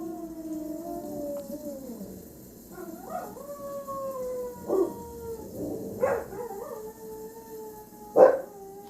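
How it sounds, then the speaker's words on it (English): Several dogs howling together in a chorus outdoors, long wavering overlapping tones rising and falling, with a few sharper yips breaking in; moderately near and steady throughout. "Now they're in full chorus. Dogs are singing."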